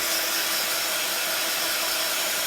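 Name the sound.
drying paint on a canvas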